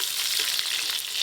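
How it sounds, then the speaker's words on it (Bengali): Potatoes and pointed gourd frying in hot oil, a dense, steady close sizzle running unbroken through a brief moment. "আমারও আলু পটল খুব ভালো করে ভাজা হয়ে গেছে"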